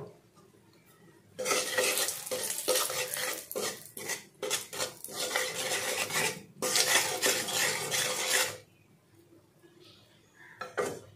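Cumin and coriander powder stirred in a hot pan for mushroom curry, loud, close metal scraping and clattering in long bursts with a faint sizzle, then dying away to near quiet.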